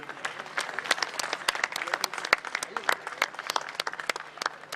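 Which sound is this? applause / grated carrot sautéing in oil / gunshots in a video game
applause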